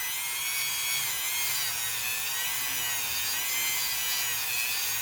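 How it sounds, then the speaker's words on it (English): A Dremel rotary tool's cutting wheel grinds a groove into a plastic or cardboard spacer for a paper diorama footpeg, a steady high-pitched whine heard up close, continuous and alone for the whole stretch. "So we're going to cut down that spacer, making a groove."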